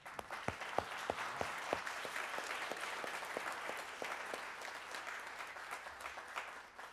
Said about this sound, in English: We can give him a applause.